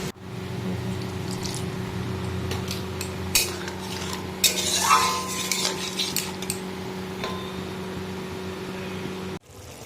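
Prawn curry cooking in a pan after a little water is added, with a steady low simmer and a cluster of scraping and stirring clatter from a spoon against the pan.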